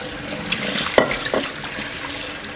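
Lentils being washed under running water from a tap, a steady close rush of water with soft splashing and a few brief clinks and stirs, no talking.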